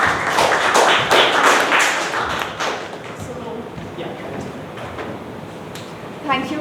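Dense applause from a Toastmasters meeting audience welcoming a speaker to the stage, loud and sustained for about two and a half seconds, then thinning and fading as a voice begins speaking.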